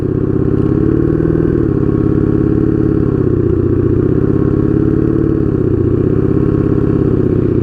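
A Honda Magna 750 motorcycle with straight pipe exhaust runs loud and close at a steady, deep, throbbing rumble with slight rises and falls in revs throughout.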